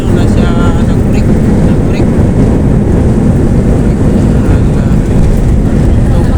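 Loud, continuous roaring rumble of an airplane landing and braking at Silay airport, heavy low-frequency noise and wind buffeting filling the whole span without letup.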